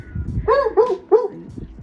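A dog barks in a backyard, three quick sharp barks close to the microphone followed by a softer whine, with faint background sounds.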